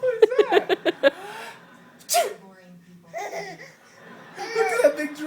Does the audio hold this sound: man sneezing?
yes